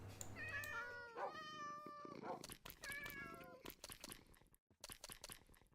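Several cats meow in Minecraft, a run of clear, drawn-out mews and cries that overlap and then scatter into shorter calls, fairly close and alone without talk.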